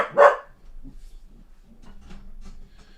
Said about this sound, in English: Max barking for you guys.